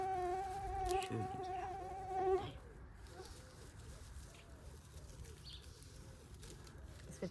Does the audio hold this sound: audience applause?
no